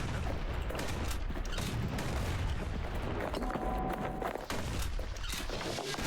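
A cannon in the Bastion video game fires homing shots in a dense, continuous barrage of loud booming blasts that run without a break for several seconds.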